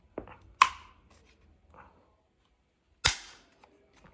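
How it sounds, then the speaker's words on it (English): A Magpul cheek riser pressed down onto a Magpul MOE rifle stock gives two sharp, loud plastic snaps about two and a half seconds apart, with a few softer clicks of handling before and between them. "All you have to do is line it up and push it down"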